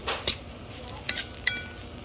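Fresh grated coconut being stirred and roasted in a pan, with a few sharp scrapes and clinks of a spoon against the pan over a soft background hiss, spaced irregularly and fairly close.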